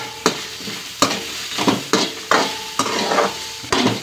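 Two large onions browning in oil in a kadai, with a steady sizzle broken by regular scraping stirs of a spoon, about one stroke each second, close and fairly loud, with no voices.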